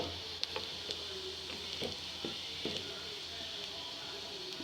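Carrot curry being stirred in a pan, soft scraping strokes and faint patters over a steady low sizzle, quiet and close.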